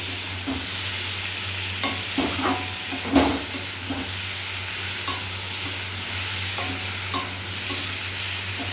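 Ridge gourd stirred and fried in a pan gives a loud, steady sizzle with repeated scraping strokes of a spatula, close up and without talk.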